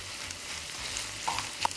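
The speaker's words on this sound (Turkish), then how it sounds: "Bu aşamada salçayı ekliyorsunuz. Hemen şöyle birazcık karıştıralım." Tomato paste frying and being stirred in a pan for a Turkish potato and minced-meat casserole, a steady soft sizzle with a few light clicks of the spoon near the end.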